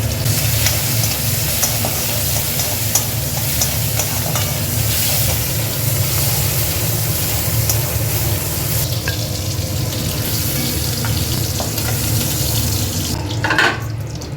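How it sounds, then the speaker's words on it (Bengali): Prawns frying in a little oil for mixed chow noodles make a continuous close sizzle with a watery hiss and stirring scrapes, fairly loud and unbroken throughout, with a brief clatter near the end. "তেল দেবো একটু অল্প, চিংড়িটাকে ভেজে নেবো।"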